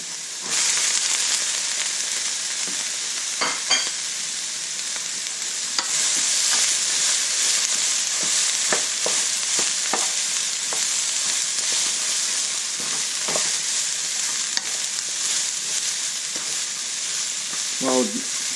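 Broccoli stir-fries in a hot pan with garlic, a loud continuous sizzle with occasional scraping and stirring clatters running steadily throughout.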